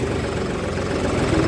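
A John Deere 5310 GearPro tractor engine runs in third gear at close range, a steady, loud diesel drone with an even rumble and no talk.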